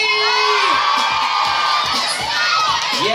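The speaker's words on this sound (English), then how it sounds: "1, 2, 3, scream!" A large crowd at an outdoor event screams and cheers together on cue, a loud, sustained wall of high shouting voices with children's shrieks mixed in.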